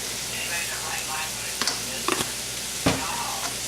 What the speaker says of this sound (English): So add the onions, add the seasoning